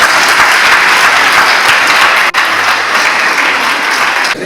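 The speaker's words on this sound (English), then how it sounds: "Give her a big round of applause." Enthusiastic crowd applause at a Black Women's Forum event during a Black history museum and art gallery tour, loud and continuous for several seconds with one brief dip partway through.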